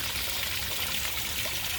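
Steady trickle of water running from a pipe during a winter storm, a continuous close hiss and dribble at even loudness, with no voices over it.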